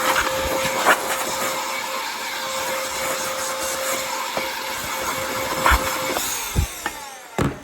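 Compressed air blows debris out of a picture frame for a floral intaglio print, a steady loud hiss running throughout with a few short bursts and knocks near the end.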